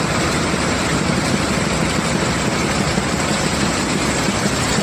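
A crowded passenger bus idles with its engine running, a steady, dense low rumble and broadband vibration drone that holds unbroken and loud throughout, with no talk over it.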